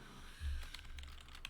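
Rapid keystrokes patter on a computer keyboard nearby, a steady clatter of keys over a faint background hum, with no talking.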